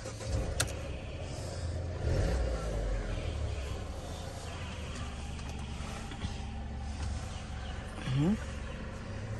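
A 2014 Mercedes-Benz E-250 twin turbo engine starts nearby and settles into a low, steady idle, with people talking over it.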